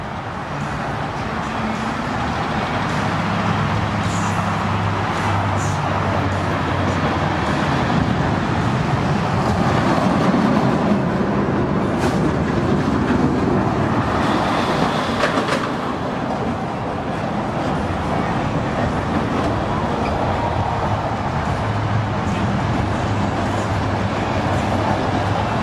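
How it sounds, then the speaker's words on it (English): Silver Bullet roller coaster test train hauling slowly up the lift hill, a steady, loud mechanical rumble and drone with faint clanks, alone without talk throughout. "that thing climbs the lift hill so slow"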